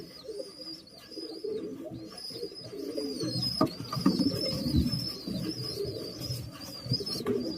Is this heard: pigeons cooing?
yes